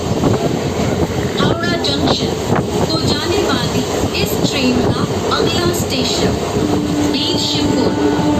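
A night local train runs between Mecheda and Bauria, its steady rumble and rattle of carriages filling the whole stretch at close range, with a horn-like tone near the end and people talking over the noise.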